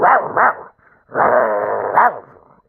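A dog barks in two quick bursts, then lets out a long rumbling growl that ends in another bark, loud and close, with no talk over it.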